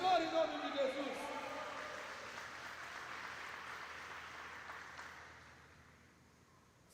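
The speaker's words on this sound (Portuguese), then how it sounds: "Você pode aplaudir ao Senhor em nome de Jesus." Church congregation applauding during a seminar service, a diffuse wash of clapping that starts fairly strong with a voice over it and gradually dies away into quiet room noise.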